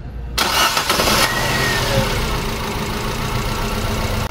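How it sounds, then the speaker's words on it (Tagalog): A Nissan Almera engine cranks and catches, then runs roughly at idle with an uneven, misfiring rumble, close and loud with no talk. "Engine start."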